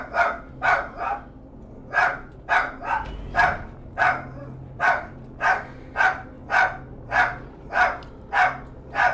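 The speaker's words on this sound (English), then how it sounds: "your dog's too loud" A dog barks about sixteen times in a steady, evenly spaced rhythm, each bark loud and sharp, over a low background hum, picked up through a gamer's voice chat.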